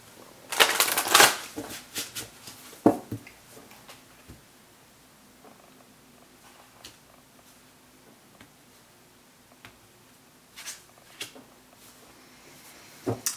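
Cards riffle and shuffle in a few brief bursts, with quiet pauses between and soft handling noises.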